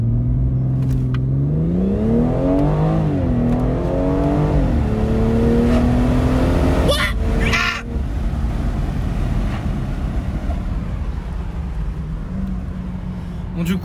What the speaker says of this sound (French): Un petit kiff, attends je vais faire un petit lunch control. Écoutez ça là, je vous fais un petit kiff là, rien que pour vous